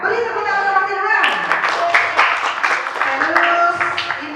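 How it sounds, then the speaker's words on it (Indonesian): A group of students claps in a classroom, a brief burst of scattered applause with a clear voice speaking over it. "Beri tepuk tangan."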